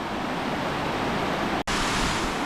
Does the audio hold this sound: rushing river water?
yes